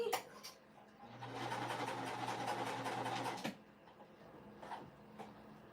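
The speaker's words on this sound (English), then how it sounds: "Sometimes with my machine, if I'm starting at the end of fabric, it has a lot of trouble like catching it." A home sewing machine stitches fabric for pet bandanas in a steady, moderately loud run of about two and a half seconds, framed by quieter handling noises before and after.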